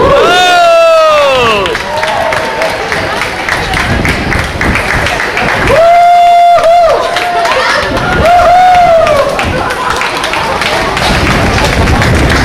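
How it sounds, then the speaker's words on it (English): A crowd claps and cheers steadily for a staff group at a Park West Art Gallery event while an announcer's voice rises above it at moments. "let's give these girls a nice big round of applause."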